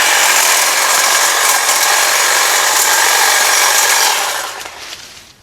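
A Greenworks string trimmer cuts through brush while clearing cedar growth, a loud, steady high-pitched whine with rough buzzing that holds for about four seconds and then winds down as the cutting stops.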